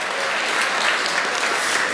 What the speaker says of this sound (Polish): teraz ogromne brawa oczywiście tej bardziej dla pana dyrektora Bogdana Rupa.